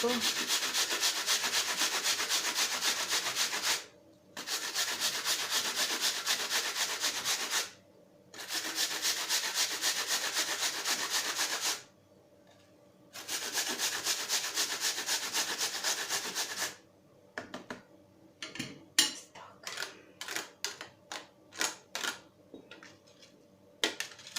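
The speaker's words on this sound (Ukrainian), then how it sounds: "Тепер сюди натираємо на крупнішу цю тертушку яблуко" An apple rubbed against a coarse grater in steady, rasping back-and-forth strokes, several sustained bursts separated by short pauses, then quicker choppy scrapes near the end, close and loud with no talking.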